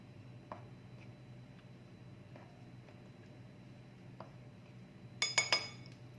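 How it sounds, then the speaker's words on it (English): A spoon stirs cake batter in a mixing bowl: a long, quiet stretch of soft, faint scraping, then a short, brighter burst of metal clinks against the bowl near the end. "I'm going to give it a nice stir. with a spoon so that it gets mixed"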